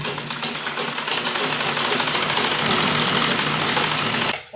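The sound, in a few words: sewing machine straight stitching a dupatta baby dress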